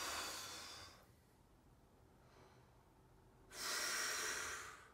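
Deep breaths drawn in during a wind instrument lesson, a long airy inhalation fading out, a quiet pause, then another strong rush of breath, close and without any talking.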